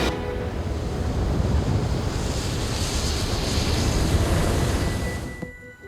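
Ocean surf pounds the Guatemalan coast in a steady, loud roar of crashing waves with wind buffeting the microphone, holding constant before fading out abruptly near the end.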